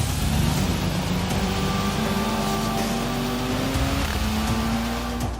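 A Ford Transit Supervan accelerating away from the start on a long race circuit, its engine a loud, steady drone that rises slowly in pitch as the van pulls away close by, with no voices.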